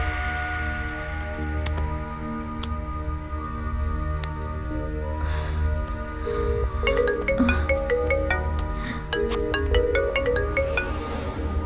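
A dialed mobile phone rings out unanswered, steady electronic tone patterns repeating in pulses over a low background hum, growing busier toward the end, with no one speaking.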